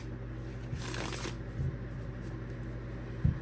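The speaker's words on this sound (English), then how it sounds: "Now these are two decks. I'm going to shuffle them in halves." Two decks of playing cards riffled together in halves on a table, a crisp fluttering burst of card shuffling in the middle followed by a couple of soft taps as the stacks are squared, close and fairly quiet.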